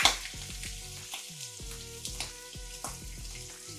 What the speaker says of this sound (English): You can hear it's nice and hot. You just carefully get your lamb straight in.